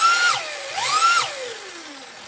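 RC car electric motor on a Hobbywing system whining as the throttle goes full, drops through neutral and brake, revs in reverse, then slowly winds forward, a loud close rising and falling electric whine with no talk.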